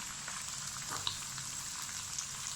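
Bitter gourds frying in oil with minced meat bubble and sizzle quietly in a pan, a soft continuous crackle with a couple of small pops.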